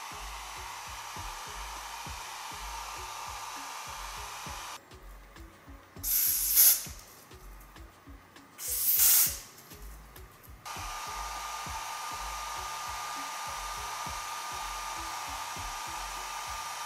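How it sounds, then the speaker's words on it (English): A hair dryer on a cool setting, used with a comb to style a curly wig, blows with a steady airy whoosh, interrupted midway by quieter stretches and two sharp bursts of hissing spray. "I'm using my blow dryer on a cool setting with my router comb"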